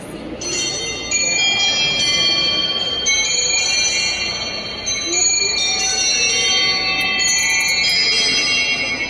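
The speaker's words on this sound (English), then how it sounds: "this famous musical clock where everyone gathers around waiting for that little figure to come out and strike the bell" A 19th-century musical clock rings out steady, sustained bell tones that layer and sparkle for several seconds, played loud and close in a museum while a speaker talks over it.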